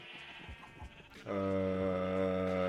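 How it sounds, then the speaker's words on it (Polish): In a video game, a sheep lets out one long, loud, steady bleat that starts abruptly after a quieter stretch of game sounds and carries on to the end. "Ty, owca!"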